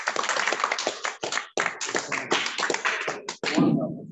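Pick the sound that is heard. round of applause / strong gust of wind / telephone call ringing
round of applause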